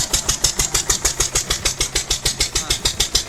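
A stationary engine runs at a jaggery-making site, thudding in a steady rapid rhythm of about six firing beats per second, loud and close, with no voices over it.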